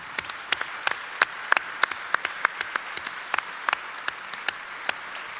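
Audience applause welcoming Professor Naughton at a 2014 New York Encounter talk: steady, moderately loud clapping from a crowd, many sharp overlapping claps sustained throughout without voices.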